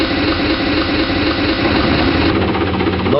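A rollback truck's engine idles in the Rigs of Rods driving simulator, a steady, close, mechanical drone that thickens and roughens slightly near the end as the revs seem to lift.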